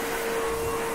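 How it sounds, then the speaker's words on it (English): A vacuum cleaner runs steadily somewhere in the room, a continuous broadband whine with a thin constant tone, unbroken for the whole second and no talking over it. "I apologize for the vacuum in the background."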